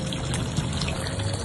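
Tap water pouring steadily into a cup, a continuous close splashing stream that fills the whole short moment without pause.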